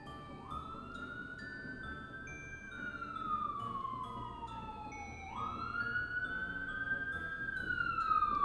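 Fire truck sirens wailing, rising and falling in long sweeps, fairly loud and drawing closer, over low street rumble, responding to an apartment fire.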